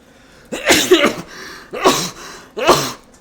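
Three loud, close sneezes sound alone in quick succession, each a sharp explosive burst with a brief intake of breath before it and short pauses between.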